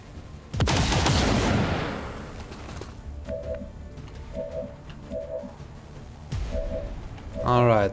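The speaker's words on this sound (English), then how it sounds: "Let's shoot this Andromedon" Gunfire from a squad weapon hitting an Andromedon in XCOM 2: War of the Chosen: a loud, close burst of shots that decays over a couple of seconds, then several short repeated electronic tones and another loud blast near the end.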